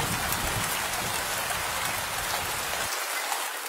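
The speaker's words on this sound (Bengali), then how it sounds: "বাইরে তখন জোরে বৃষ্টি শুরু হয়েছে" Heavy rain pours down outside at night, a dense, even roar of drops close by that holds steady and then thins abruptly near the end, with no voices.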